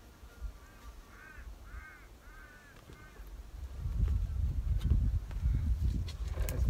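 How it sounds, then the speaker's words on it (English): Crows cawing in the distance at an outdoor plein air landscape painting session, several short rhythmic calls in bursts over the first few seconds, then rustling and handling noise grows louder and covers them. "Crows in the distance sound good."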